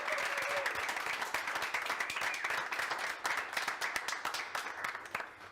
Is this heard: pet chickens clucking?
no